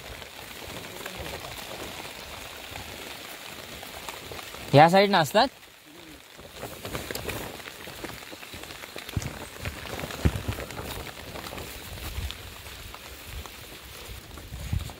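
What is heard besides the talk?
rain falling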